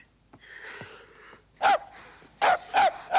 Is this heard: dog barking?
yes